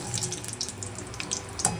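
Steady crackling sizzle of food frying in hot oil, a continuous close hiss with small pops, no voices.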